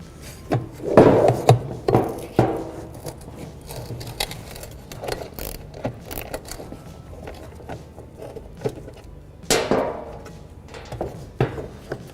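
A 10mm socket works a bracket off a 2007 Honda Accord headlight assembly, giving a string of close, irregular ratcheting clicks and plastic-and-metal knocks with short pauses between bursts, no talking.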